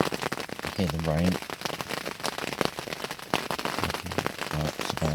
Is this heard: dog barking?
no